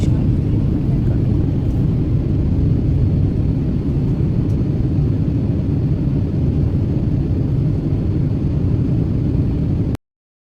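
An airliner's cabin in flight fills with a loud, steady low roar of engine and airflow noise that holds constant with no pauses.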